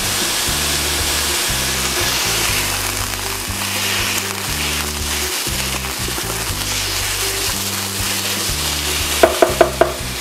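Pork strips frying loudly in a pan, a steady dense sizzle running throughout with a low rhythmic hum beneath and a few quick sharp clicks near the end.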